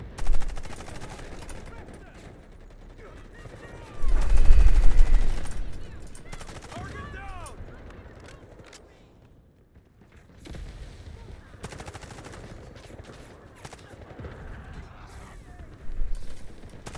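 Gunfire in a first-person shooter game comes as a loud, close burst of rapid shots, followed by scattered quieter reports and game ambience, with a player's voice talking over parts of the action.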